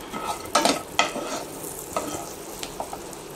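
Cashew nuts frying in a pan for a cashew mushroom curry, a soft sizzle broken by a few sharp scrapes and clatters as they are stirred, close and without talk.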